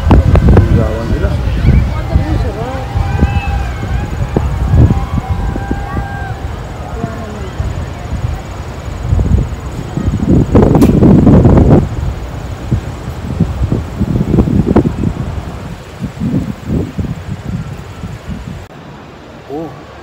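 Gusty, cold wind buffets the microphone in low, rumbling surges that rise and fall throughout, with faint voices in the background, on the American side of Niagara Falls.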